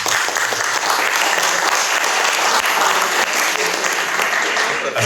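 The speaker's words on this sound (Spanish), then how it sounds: "para quien pido un cálido aplauso" Warm, sustained applause from an audience at a book presentation, greeting the dean of the Faculty of Social Sciences, dense clapping filling the hall without pause.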